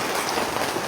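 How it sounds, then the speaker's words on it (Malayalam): Heavy monsoon rain pours steadily around a house during the rainy season, a dense, continuous hiss of drops on surfaces with no pauses or voices. "പെരും മഴയാണ്."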